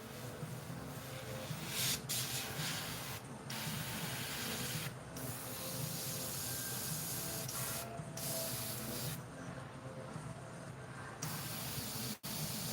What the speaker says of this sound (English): I'm adjusting my airbrush here so I can.